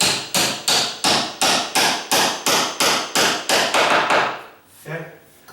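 A hammer repeatedly taps a sagging door hinge set up high on a door, about a dozen sharp metallic blows in a steady even rhythm, loud and close, followed by a brief low thud.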